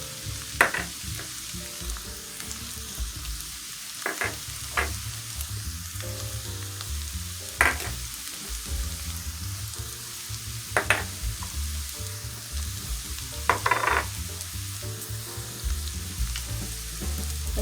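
Cabbage sautés in a pan with seasoning, giving a continuous soft sizzle and fry broken by several sharp clatters of stirring at irregular intervals, with no talking.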